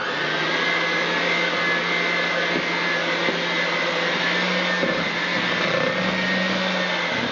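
A KitchenAid stand mixer beating pumpkin bread batter in a home kitchen: a steady, close motor whir that runs unbroken throughout with faint knocks of the bowl, and no talking over it.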